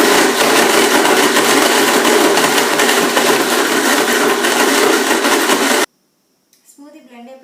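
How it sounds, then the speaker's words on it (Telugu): A blender whirs loudly and steadily while blending a pomegranate and banana smoothie with chia seeds and water, then cuts off abruptly, followed by a few faint clicks and a brief voice. "ఇప్పుడు మనం బ్లెండ్ చేసుకున్నాం"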